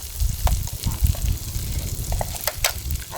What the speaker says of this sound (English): I'm going to add the saltfish now.